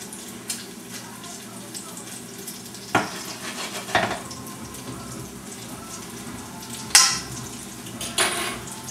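Homemade meatballs frying in a pan: a steady sizzle runs throughout, broken by a few louder clanks and scrapes of stirring or turning, close and fairly loud.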